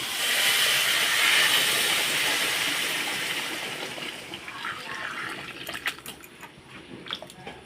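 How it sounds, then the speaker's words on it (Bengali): Water poured onto frying Gobindobhog rice for pulao, a loud rushing hiss that gradually fades into crackling, spitting sizzles and pops, heard close with no talking. "দেখো চালটা ভাজা হয়ে গেছে জলটা দিয়ে দিচ্ছি"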